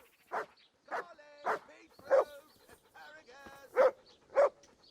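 A dog in the video game Kingdom Come Deliverance barks in a steady series of about seven sharp, close yaps with whimpers between them, while someone talks underneath.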